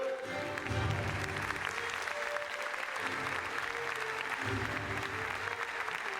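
Audience applauding a lifetime honor award presentation, sustained crowd clapping with a low music-like hum and voices underneath, steady and full throughout.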